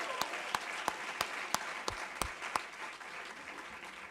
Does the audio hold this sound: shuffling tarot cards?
no